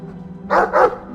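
Dog in the Dragon Age 2 video game giving two quick loud barks back to back, close and clear over a quiet background hum.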